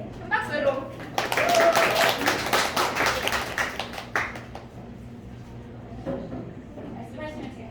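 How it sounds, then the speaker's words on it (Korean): A lecture audience claps for a presenter called to the front, a dense burst of applause that swells, then thins into scattered claps, with a voice speaking before and after. "네, 큰 박수로."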